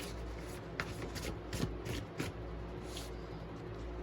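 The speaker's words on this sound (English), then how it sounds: "I'm going to shuffle out a card from this deck of index" Index cards shuffled from a deck, giving a few soft papery riffles and slides with light taps, close and quiet against a low steady room hum, with no talking.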